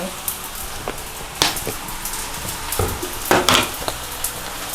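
Glass noodles and vegetables being stir-fried in a pan for a vegetarian Thai dish, with repeated sharp metal utensil scrapes and clanks over a soft sizzle, irregular strokes every second or so.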